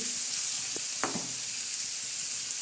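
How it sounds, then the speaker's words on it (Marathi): Onion frying in a pan as the tempering for a spiced sev bhaji curry, a steady soft sizzle with a couple of brief clinks or stirs midway, no voices. "आता चांगला कांदा आपला फ्राय होतोय"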